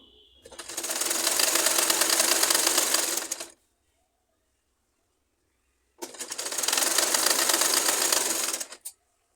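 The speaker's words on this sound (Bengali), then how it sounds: "এখানে শুরু করে পুরো বডিতে সেলাই দিয়ে দিব" A sewing machine stitches the body of a baby frock in two bursts of rapid, even needle chatter lasting about three seconds each, separated by a stretch of silence, close and clear.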